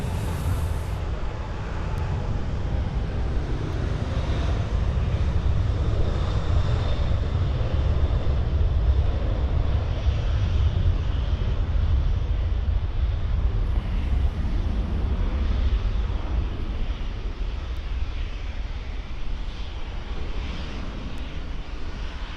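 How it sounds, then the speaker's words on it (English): An airplane taking off at Birmingham Airport, heard as a continuous heavy engine roar with deep rumble and wind noise that holds steady and loud throughout, with no talking. "Fingers crossed, this is going to be a full takeoff."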